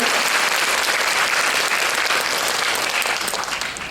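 Audience applause in a hall at a school education concert, dense continuous clapping that holds strong and then begins to taper off at the end.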